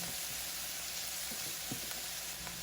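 Chicken sizzles steadily while frying in a pan and being stirred, a constant close hiss of hot oil with a few faint knocks from the stirring.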